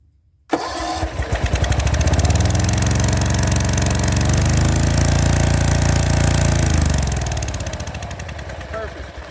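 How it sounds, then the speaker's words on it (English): Gravely 34z zero-turn mower engine after a solenoid replacement: a sudden start into a loud, close, steady running drone that runs for several seconds before the key switches it off and it winds down. "that time when I turned off the key, it didn't want to turn off right away, so I'm going to do it a third time"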